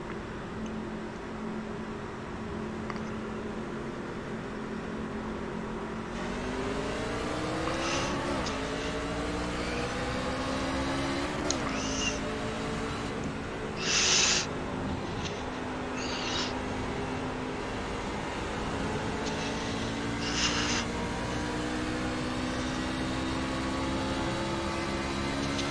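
Race car engines in iRacing on the Phoenix oval, a steady droning roar whose pitch rises and shifts as the cars accelerate, with several engines layered together at a moderate, even level.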